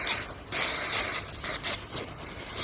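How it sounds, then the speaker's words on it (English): Brake cleaner sprayed from an aerosol can onto a Ducati Monster S2R 1000 during a clutch fluid change, heard as several short, loud hissing bursts in quick succession close by. "now a little bit of brake cleaner just to tidy everything up in case anything got by"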